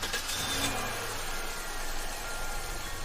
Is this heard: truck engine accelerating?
yes